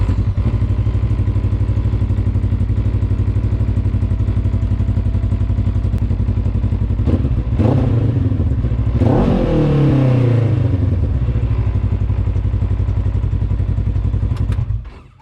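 A 2020 Polaris RZR 1000 XP engine idles steadily at close range with a constant low rumble, broken by a few clunks and a brief rev near the middle before it cuts off at the end.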